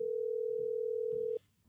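A telephone sounds one continuous steady tone for over a second, then cuts off abruptly into quiet background.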